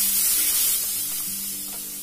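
Raw mango pieces sizzle steadily in a pan alongside stuffed bitter gourd, a close, soft frying hiss with faint stirring and no talk.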